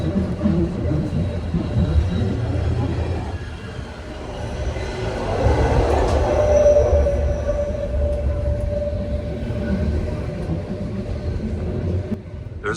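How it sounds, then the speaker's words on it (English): A Swiss railway train runs toward Grindelwald with its window open, giving a steady, loud rumble and clatter of wheels with rushing air throughout and no pause. "I made the train perfect timing, and it's only a 6-minute train ride."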